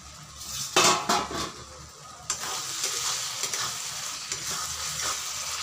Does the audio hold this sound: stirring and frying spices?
yes